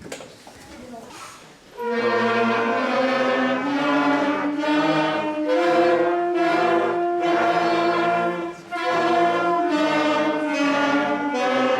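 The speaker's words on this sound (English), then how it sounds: "So we're going to play 5-note warm-up for you." A fifth-grade beginner wind band plays a slow five-note warm-up, sustained unison notes stepping in pitch, loud and steady after a quiet start.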